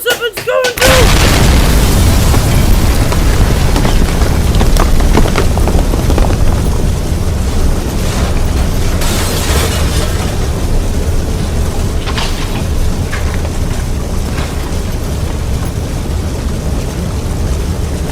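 A potion explodes with a heavy, sustained roar that starts abruptly and rumbles on loudly for many seconds, deep and dense throughout, with a voice briefly heard at the outset.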